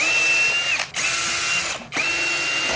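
A power drill whines loudly in sustained bursts, stopping briefly twice with clicks between runs, close by as bolts are spun out during a 5.7 Hellcat engine rebuild.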